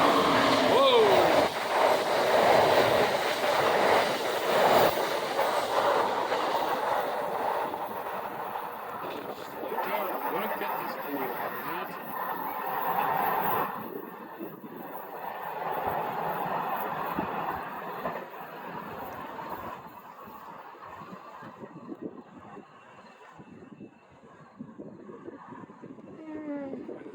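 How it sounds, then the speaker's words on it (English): An Amtrak train passes Halethorpe station with a loud, broad rumble and rushing roar that holds strongly, then slowly fades and thins toward the end, with people talking nearby. "It's an Amtrak train."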